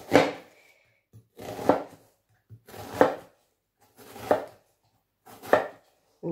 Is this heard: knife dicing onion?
yes